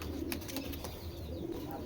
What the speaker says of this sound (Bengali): এটা আমার ঘরের কবুতর, একদম রিং লাগানো আছে